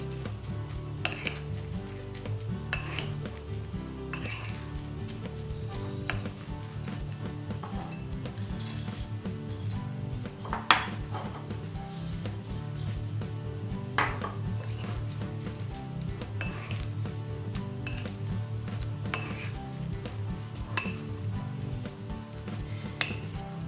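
Seeds with flax being stirred in a bowl for dehydrated seed crackers, a soft continuous rustle with scattered light clinks and taps of a utensil against the bowl, steady and close throughout.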